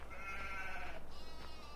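Sheep bleating in the farming game Farming Simulator 17, a single drawn-out nasal bleat followed by a second call, steady and fairly close with no talk over it.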